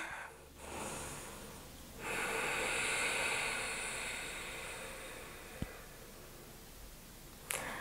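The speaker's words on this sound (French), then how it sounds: "respiration complète ici, inspire, expire" Long, slow breaths drawn in and pushed out during a full-body stretching session, close and airy, with a sustained rushing inhale followed by a gentle exhale and no talking.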